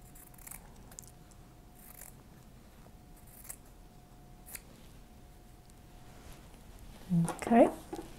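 Scissors cutting out a fabric appliqué, soft intermittent snips spaced through a quiet room, with a person speaking briefly near the end.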